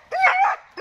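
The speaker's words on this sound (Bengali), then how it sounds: "ওই যে কুকুরটাকে দেখে চিল্লাচ্ছে" A dog kept at a dog house in Dinajpur barks at a wild dog: one sharp, close yelping bark followed by the start of a second after a brief gap.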